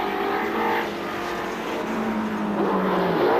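A Brabham racing car roars past a grandstand at a 1978 race, its engine a loud, continuous drone that shifts in pitch as it passes close by.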